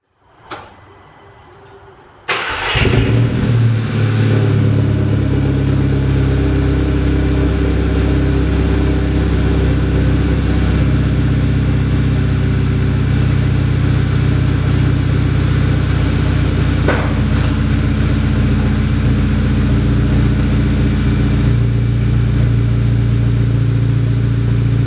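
Volkswagen MK6 GTI fitted with a COBB turbo-back exhaust starting up, a brief crank then a loud, steady deep idle rumble held close and constant with no talk.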